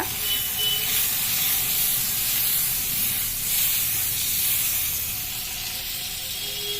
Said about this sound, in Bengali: চলো বন্ধুরা তাহলে আমরা পাউরুটিটা ভেজে নিই